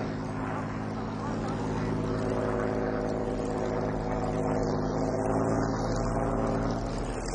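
WWII Spitfire and Bf 109 fighter planes in a dogfight, their propeller engines droning loudly and continuously with a rising and falling pitch, heard under someone narrating.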